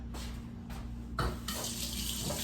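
Tap water runs steadily from a faucet into a sink while a utensil is rinsed off during red velvet brownie making, a continuous close hiss with a brief clink of metal partway through.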